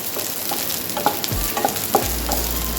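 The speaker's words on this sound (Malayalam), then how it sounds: "ഈ ഒരു ലോ ഫ്ലെയിമിലിട്ടിട്ട് വെണ്ടയ്ക്ക വഴറ്റാവും" Okra sautéing in a pan over a low flame for an Iyengar-style lunch, with a soft continuous sizzle and several scraping stirs of a spoon, close and steady, with no talk.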